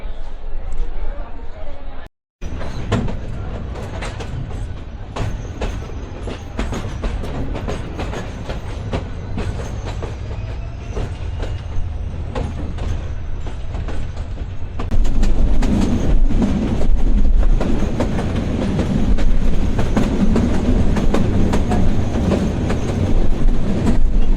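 A train at Parbatipur railway station in Dinajpur rumbles and clatters steadily, with a brief dropout near the start. The rolling noise grows louder and fuller in the second half, and voices talk over it.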